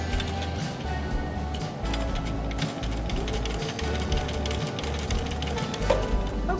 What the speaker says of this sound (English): here we are, all done sewing our binding strips on